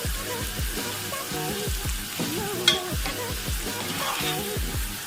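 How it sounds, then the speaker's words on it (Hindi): Capsicum sautéing in a pan while chicken shashlik is being made, with a steady frying sizzle under repeated scraping stir strokes close by, one sharper clatter midway, no talk. "एक 8 मिनट को हम इसमें शिमला मिर्च को भी सौते करेंगे।"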